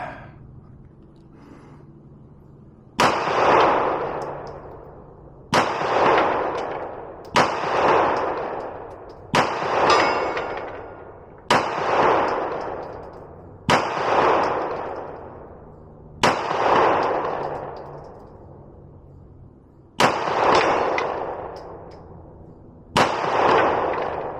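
Ten loud, single shots from a Beretta APX A1 Compact pistol at a shooting range, spaced about two to three seconds apart, each a sharp crack with a fading echo.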